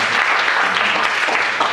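A church congregation claps together during a Sunday service, a steady, dense wash of many hands that fills the room without letup for the brief moment.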